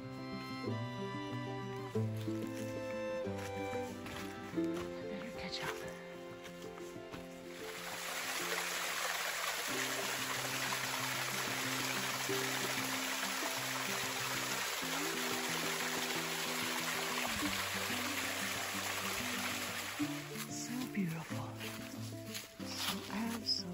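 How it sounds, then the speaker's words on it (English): A stream flows below a mountain trail, a soft, steady rush of water that comes through most clearly during a quiet middle stretch, with a person talking and a tonal background before and after. "you can hear the water below us"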